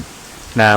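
Heavy rain pours outside a Thai temple during a sermon, a dense, constant hiss, and a voice starts speaking over it near the end.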